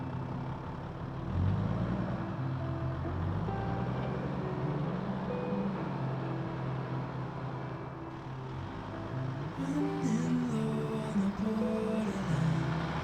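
A triple-locked turbo diesel Toyota Land Cruiser 80 Series growls steadily off road, its engine note rising and falling as it climbs, heard from inside the cab with a faint chime near the end.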